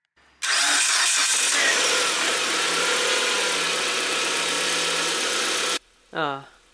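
A car engine cranks and catches after a starter relay replacement, then idles steadily at a loud, even level for several seconds before cutting off; a brief voice follows.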